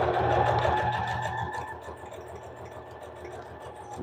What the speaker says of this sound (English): I'm not even sure you guys can hear me over me sewing